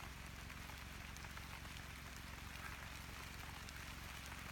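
Rain patters steadily on a blue plastic tarp sheltering a campfire, a dense, even, fairly soft drumming that continues alone without pause.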